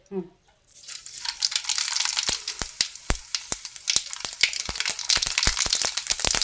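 Half a spoon of mustard seeds fry in a ladleful of hot oil in a kadai, crackling with a dense hiss and many sharp, irregular pops that keep building, after a brief voice at the start.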